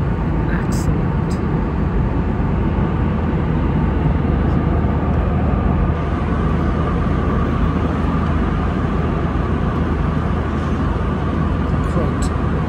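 Steady broadband roar of an airplane in flight heard from inside the cabin, loud and constant with a deep low rumble throughout, no breaks or changes.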